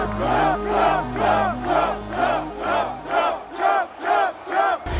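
Thousands of people in a large crowd at a Trump rally chant and cheer in a loud, steady rhythm of about ten swelling pulses, with no single voice standing out.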